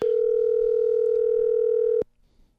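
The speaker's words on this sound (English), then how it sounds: "and I have to make one more phone call here" A telephone dial tone sounds while a phone call is being placed, a loud steady pure hum that holds for about two seconds and then cuts off abruptly, leaving faint background noise.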